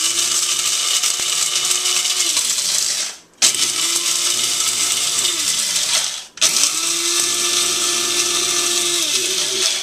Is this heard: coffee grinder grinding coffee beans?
yes